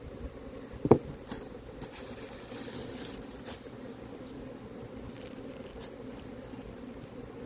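Honeybees swarm thickly around hive frames during a spring colony inspection, making a steady, fairly faint buzzing hum with a soft knock early on.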